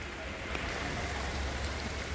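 Heavy rain pours down steadily, a dense, even hiss of water hitting the surface that fills the whole moment without a break.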